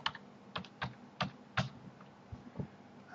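A password is typed on a computer keyboard: about eight quiet, close key clicks in an uneven rhythm over a few seconds, with no talking.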